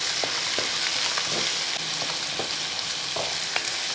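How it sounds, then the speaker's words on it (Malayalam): Steady sizzling of onions sautéing in a pan over low heat, with soft scraping and clicking as they're stirred now and then. "ഇളക്കി കൊടുക്കുക തീ കുറച്ച് വെച്ചതിന് ശേഷം മാത്രമേ ഇതൊക്കെ ചെയ്യാവുള്ളൂ"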